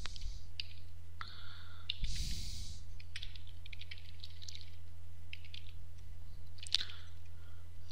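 A computer mouse clicks while files are selected and moved, giving scattered sharp clicks and brief keyboard-like taps that are close and clear, over a steady low electrical hum.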